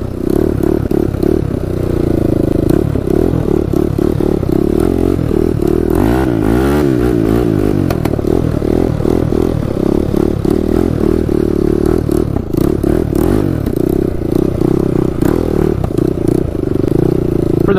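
A quad bike engine being broken in runs loud and close, its throttle blipped and varied in a rough, rattly drone with clattering mechanical noise throughout.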